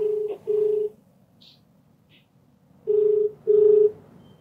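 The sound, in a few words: telephone being dialed to place a call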